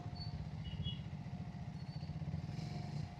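A Triumph Thruxton 400 cafe racer, running hot with its radiator fan on, gives a steady, low engine rumble while being ridden, continuous and close with no talking.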